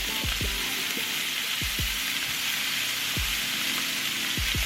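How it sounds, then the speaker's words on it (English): Beef searing in very hot avocado oil in a pan for barbacoa tacos, a steady loud sizzle broken by several low knocks and clinks of the meat and pan, with no talking. "we're gonna sear the meat for a good minute on each side"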